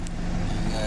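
A boom truck's engine idles close by at a loading spot beside a fish port, a steady low rumble running through the short moment with faint background voices.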